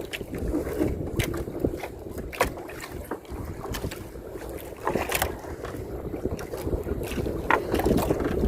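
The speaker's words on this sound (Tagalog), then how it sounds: "Ang lakas ng hangin." Strong gusts buffet a small boat on open water, a steady roaring rush of wind noise across the microphone with sharper bursts and faint slapping of waves, continuous and close throughout.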